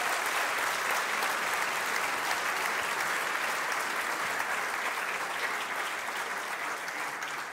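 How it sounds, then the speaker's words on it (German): Audience applause at a student racing team's car rollout, a dense, steady wash of clapping from many hands that carries on without pause and fades slightly at the end. "Ich glaube, das ist ein Applaus wert."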